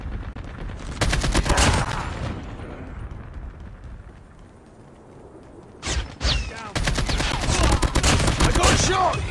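Rapid bursts of gunfire in Call of Duty Mobile ranked multiplayer, loud close rattling volleys near the start, a quieter lull, then heavy sustained firing resuming to the end.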